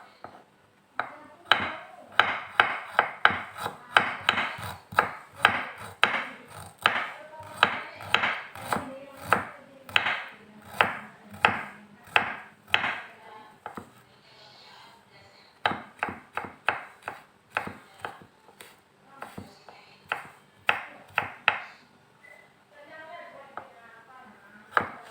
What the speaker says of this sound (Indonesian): Nah, cincang lagi itu jahenya.